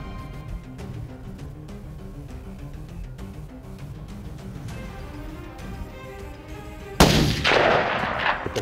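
A single rifle shot cracks loudly near the end, fired at a whitetail deer during a trophy hunt in Alberta, following a stretch of quiet outdoor ambience.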